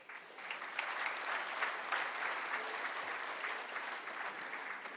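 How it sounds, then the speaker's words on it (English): A banquet audience at a university athletics hall of fame ceremony applauds steadily for five seconds, a dense even wash of clapping heard from within the room. "Please do give them a round of applause."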